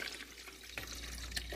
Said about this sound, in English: coffee pot and pour the water in